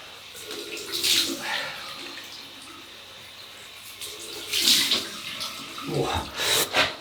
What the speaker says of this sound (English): So we'll have a cold water rinse.